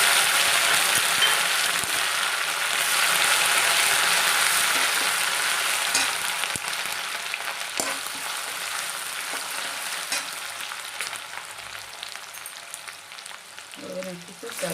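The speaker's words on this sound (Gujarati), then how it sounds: "પછી હિંગ નાખી દઈશું, પછી કડી પત્તો નાખીશું અને આ મરચું વાટેલું હતું એ નાખીશું" Asafoetida, curry leaves and ground chilli hit hot oil with a loud, dense sizzle that gradually settles into steady frying, and a brief clatter comes near the end.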